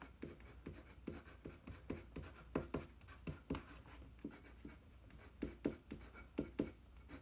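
A pencil scratches across paper while someone draws a head, with quiet, steady rhythmic strokes and scribbles that continue throughout, close and soft with no talking.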